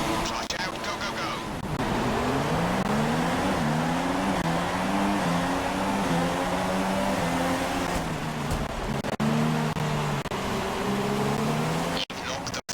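Race car engine in the F1 2016 video game revving hard and accelerating off the line at a race start, a loud, continuous whine that climbs repeatedly in pitch as it shifts through gears, with a voice talking over it.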